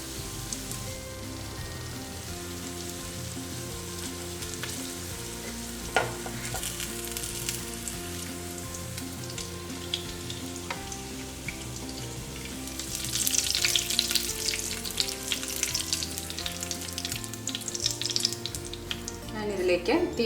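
Kingfish (neymeen) fry sizzles in hot oil, a steady crackling hiss with occasional louder spits and stirring scrapes, close and continuous without talk.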